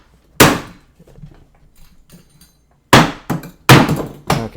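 Hammer blows striking a glass dinger, a sharp loud crack followed by a run of quieter taps, then three more heavy, ringing impacts close by in quick succession.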